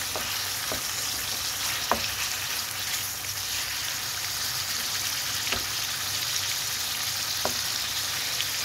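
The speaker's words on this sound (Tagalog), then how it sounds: "Iprito natin ang bahagya ang ating chicken breast." Chicken breast frying in a pan gives a steady close sizzle throughout, broken by a few sharp crackles and pops.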